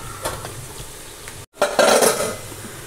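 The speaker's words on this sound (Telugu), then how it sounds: "దీంట్లో సరిపడా ఉప్పు పసుపు వేసుకొని ఫ్రై చేసుకోండి" Cluster beans fried with salt and turmeric in a pan for a Telugu dal fry, heard as a spoon scraping and stirring against the pan followed by a louder sizzling hiss after a brief pause, with no talk.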